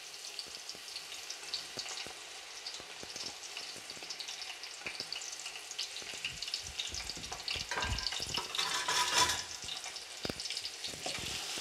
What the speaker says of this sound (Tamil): நான் வந்து நீளமாக வெட்டி வச்சுருக்க ஆனியனை போடுறேன்